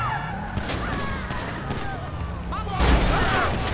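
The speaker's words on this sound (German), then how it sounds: "Ja, die schießen immer noch auf uns." Gunfire from attackers in GTA 5 during a police-mod shootout, sharp reports scattered across a busy game mix with engine and crash noise, a heavier burst near the end, while someone talks over it.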